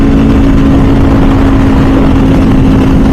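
A race-exhausted Ducati or MV Agusta motorcycle engine drones loud and steady, a dense continuous rumble with a strong low hum and no break.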